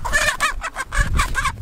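Chickens cluck close by in a pen or yard where children are catching a hen, the calls coming in a steady series of loud, repeated clucks with brief gaps.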